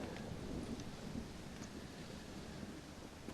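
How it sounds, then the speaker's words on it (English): Thunderstorm in the video game Red Dead Redemption: a steady wash of heavy rain with low rumbling thunder, filling the whole stretch at an even level with no voices. "Well, it's just the storm, John."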